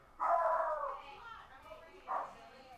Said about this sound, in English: I'll shout out to the dog barking in the background.